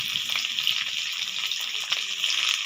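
Vegetables tipped into a hot pan of oil for a Bengali sour fish curry of bhola fish with lemon give a steady, close frying hiss and sizzle with no voices.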